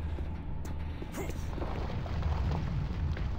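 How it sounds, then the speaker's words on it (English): Weapons fire and booming explosions rumble in the video game Doom 3, with low, dense blasts and crackling bursts filling the mix at moderate loudness, a person talking over them. "Weapons fire."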